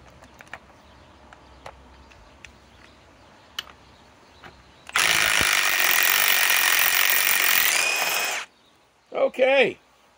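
Milwaukee M12 Fuel Stubby Gen 1 impact wrench removing a nut, a loud dense hammering burst lasting about three and a half seconds after quiet clicks and taps, then two short rising buzzy bursts.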